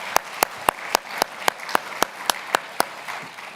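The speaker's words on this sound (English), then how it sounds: "let us give our panelists one more round of applause" A steady run of about eleven sharp, evenly spaced claps, clear and close, from the audience thanking the panelists at an interfaith forum held at a synagogue; the clapping then stops.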